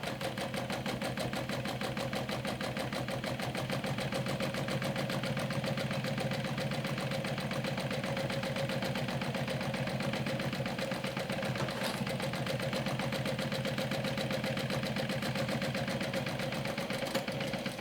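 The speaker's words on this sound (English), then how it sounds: "I have such a hard time sewing slowly" Sewing machine stitching a glow-in-the-dark backpack, steady fast mechanical whirring with rapid needle rhythm running continuously and evenly for the whole stretch, close and unbroken, no talk.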